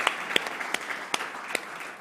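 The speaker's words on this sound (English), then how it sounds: "Shall we give Manzini and the black team of Cornerstone a round of applause?" Steady applause from a crowd, fairly soft and distant, with a few sharper claps standing out.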